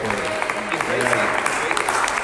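An audience at a fireside chat claps in a brief round of applause for an associate professor, steady clapping mixed with a voice talking over it.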